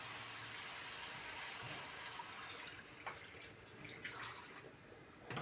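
Water runs steadily over pork bones and meat in a container, a soft continuous splashing with faint drips, quiet and close.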